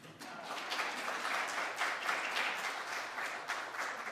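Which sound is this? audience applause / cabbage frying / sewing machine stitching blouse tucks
audience applause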